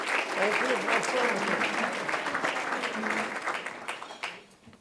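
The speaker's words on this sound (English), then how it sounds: "Round of applause for Lynn." Audience applause welcoming journalist Lynn Sweet at a panel on the Supreme Court after Scalia, a full room of steady clapping mixed with cheers and voices that tails off at the end.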